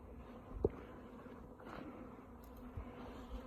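A honey bee swarm buzzes around hive boxes, a faint, steady hum of many bees with a few closer passes standing out briefly.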